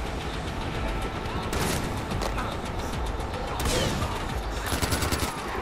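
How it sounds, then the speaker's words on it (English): Gunfire in Far Cry 4, including an enemy shotgun, comes as dense, repeated loud blasts and sharp bursts over a noisy combat soundscape, with no clear voices. "This guy has a shotgun."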